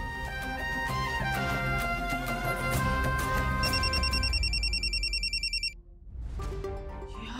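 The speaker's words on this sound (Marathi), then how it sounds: "ह्यांचा फोन" Telephone ringing in a Marathi TV drama scene, a repeating electronic ring tone over dense background music that cuts out briefly near the end.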